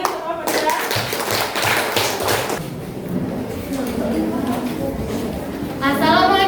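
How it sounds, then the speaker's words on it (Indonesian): Classmates clap for a student group giving a presentation in a classroom, a dense burst of applause near the start that thins out into scattered claps, with voices talking over the end. "Tepuk tangan lagi untuk kelompok 2"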